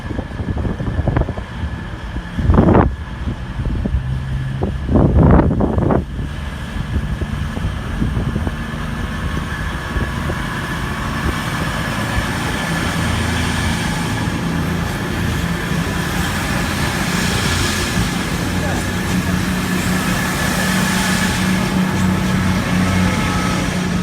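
A real-life diesel train with Cummins QSK engines passes outdoors, a steady broad rumble that builds and holds for many seconds, heavily buffeted by wind noise on the microphone.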